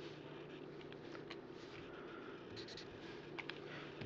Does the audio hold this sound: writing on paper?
yes